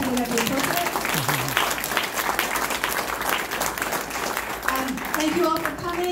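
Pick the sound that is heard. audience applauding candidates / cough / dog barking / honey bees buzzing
audience applauding candidates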